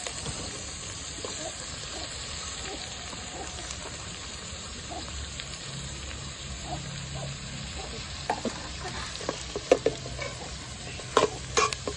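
Tomatoes frying in a pan, a steady moderate sizzle with scattered stirring clinks and sharper knocks toward the end, faint voices in the background.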